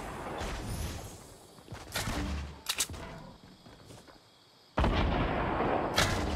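Gunfire in the Fortnite battle royale game: bursts of shots and impacts near a treehouse, loud at first, dipping into a quieter stretch, then resuming strongly near the end, with no talking.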